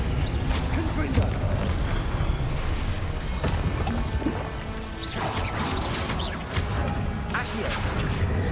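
Fiery Confringo spell blasts go off in Hogwarts Legacy as loud booms and crashing impacts amid continuous combat noise, with a voice calling out over the explosions.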